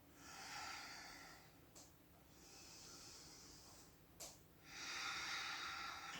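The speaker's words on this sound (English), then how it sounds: "Breathing here." Slow, audible breaths drawn in and let out through the nose and mouth during a morning yoga flow, three long airy cycles with brief pauses between them, close and fairly quiet, with no talking.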